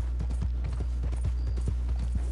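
Horse hooves clip-clop in Red Dead Redemption 2 Online, a steady, fairly close rhythm of low thuds with no talking over it.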